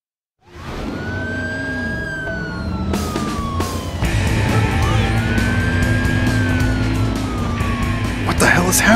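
An ambulance siren wails in the driving video game Driver: San Francisco, its rising and falling tones sweeping continuously over a rumbling engine and traffic noise, with a brief voice heard near the start.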